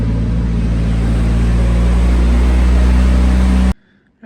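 A freshly rebuilt car engine runs loud and close in a steady, heavy drone for several seconds, then cuts off abruptly, leaving near silence.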